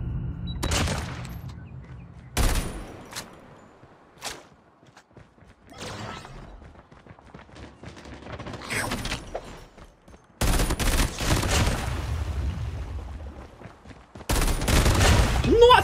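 Bursts of gunfire from a legendary Swordfish weapon in the Call of Duty Mobile video game, several loud rapid volleys separated by quieter gaps with footsteps and clatter, while someone talks excitedly between shots.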